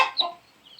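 Naked neck Turken chicken from a genetically pure meat breeding flock gives a short cluck, a brief close call followed by a quieter tail.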